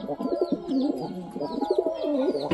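Domestic pigeons coo in steady, overlapping low burbling calls with a few higher chirps, close and moderately loud throughout, with no talk.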